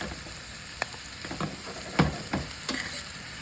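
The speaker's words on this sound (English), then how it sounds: "1 large shallot that's been sliced up. We want to season this oil." Sliced shallot frying in a pan of oil, a steady soft sizzle with a few louder crackles and stirring knocks scattered through it, no voices.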